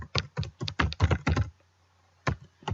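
Quick clusters of keystrokes on a computer keyboard type out a Facebook group name, a rapid run of close clicks, a pause, then a few more taps.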